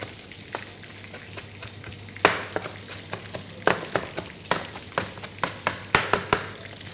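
Chicken kofta deep fries in hot oil with a steady low sizzle, while sharp clicks and taps recur at an uneven rhythm, like a utensil tapping a pan. No one speaks.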